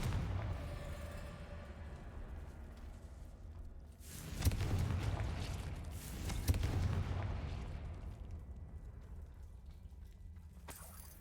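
A Confringo blast spell from Hogwarts Legacy erupts in a deep booming burst, followed by a second rumbling impact, rising out of quiet background ambience before fading away.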